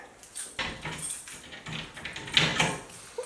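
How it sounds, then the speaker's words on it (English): A big bunch of about thirty keys jangles in a series of sharp metallic rattles and clinks, coming in irregular bursts close by, with no talk. "which one of these 30 keys is the key to the water moccasin?"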